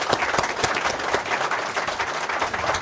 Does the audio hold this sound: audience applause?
yes